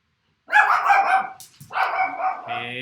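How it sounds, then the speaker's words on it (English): A dog barks in two loud close bursts of several rapid barks each, separated by a brief pause, with no talking over it. "Sorry to everybody out there whose dogs probably just started barking."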